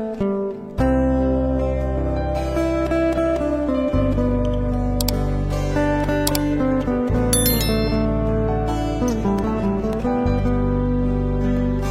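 A notification bell sound effect rings out in bright, metallic dings, repeating several times over sustained tonal music.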